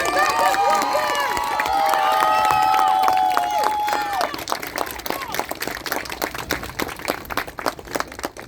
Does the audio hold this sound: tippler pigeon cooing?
no